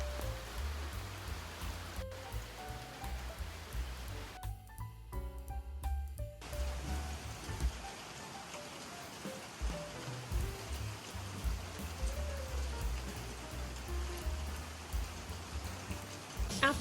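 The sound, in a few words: heavy rain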